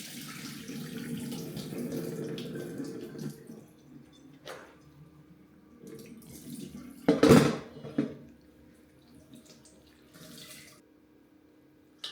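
Soaked knitted scarf and collar being wrung out by hand, with soft sloshing and trickling water, a louder splashing burst near the middle, then scattered drips fading away.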